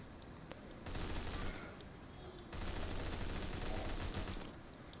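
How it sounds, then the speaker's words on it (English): Automatic gunfire in the shooter video game Phantom Forces, sustained bursts of rapid loud shots that fill the whole stretch, with a brief lull between two dense volleys. "Oh wow, that gun's loud."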